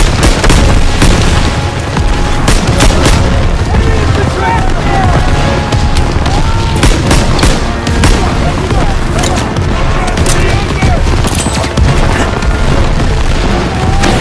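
Call of Duty WWII battle on Hill 493, with continuous loud gunfire, machine-gun bursts and booming explosions, and shouted voices mixed into the combat noise.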